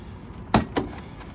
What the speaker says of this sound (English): Got the split door here as well, which is nice. So if I rotate that,